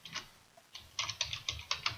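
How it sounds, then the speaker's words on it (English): Fingers typing a comment on a computer keyboard, a quick run of close, crisp key clicks in an irregular rhythm with brief pauses, quiet room, no talking. "Simply type the comment in the space provided."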